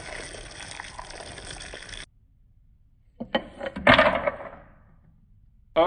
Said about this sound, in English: Then pour hot water over 5 Medjool dates and add them too.